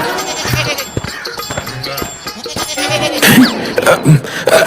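Several goats bleat loudly and repeatedly over a busy farmyard background, the cries overlapping toward the end.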